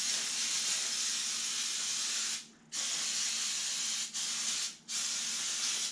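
Carb cleaner sprays in long steady hissing bursts into the carburetor of a push mower with a stuck float, broken by three brief pauses, close and loud with no talking.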